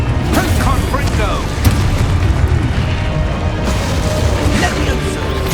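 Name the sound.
Confringo blasting spell explosion, video game Hogwarts Legacy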